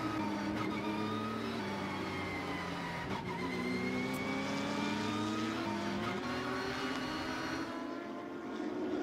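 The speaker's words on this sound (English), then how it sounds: "trying to get the car up to speed and keep the temperature in the tyres while you're under a safety car period" Onboard engine of a race car circulating under safety car conditions at Estoril, a continuous loud drone that rises and falls as the driver revs and weaves to keep tyre temperature, heard close up.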